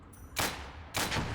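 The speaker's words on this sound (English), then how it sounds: "Tank is firing at it." In the Gates of Hell war game, a tank fires two loud, booming shots about half a second apart, each with a quick attack and a rumbling tail.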